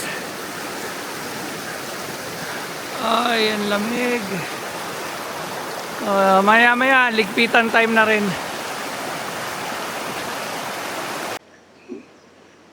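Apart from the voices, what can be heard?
river stream flowing at a campsite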